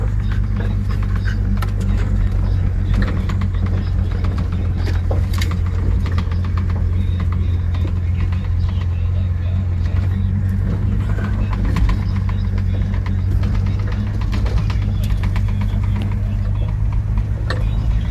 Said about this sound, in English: Truck's running really good.